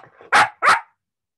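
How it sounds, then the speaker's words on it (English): Two sharp, loud barks from a puppy named Tallulah, close by and evenly spaced, preceded by a softer whine or yip, with silence afterward. "That's my puppy Tallulah barking."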